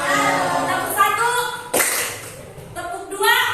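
Schoolchildren in a classroom clapping in a counting clap pattern, a few loud sharp claps spaced between children's voices chanting and talking, close and lively.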